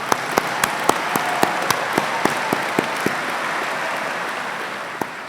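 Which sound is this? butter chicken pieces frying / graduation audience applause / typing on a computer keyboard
graduation audience applause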